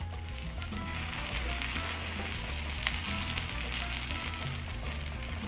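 Spanish omelet egg mixture frying in a pan, a steady close crackling sizzle with soft popping throughout, no talk.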